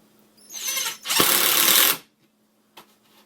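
A Hitachi 10.8V lithium impact drill-driver drives a screw into a solid 2x6 wood board in one short, loud, close burst of rapid hammering whir lasting about a second and a half.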